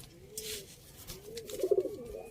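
Soft, low pigeon cooing close by, a rolling coo that swells briefly near the end, alone without talk.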